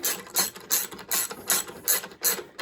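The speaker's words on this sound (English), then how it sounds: "Grab your ratchet and send it home." Ratchet wrench tightening a bolt on a vintage Honda CL350 rear fender, a series of about six quick bursts of metallic clicking in steady rhythm, close and clear with no talk.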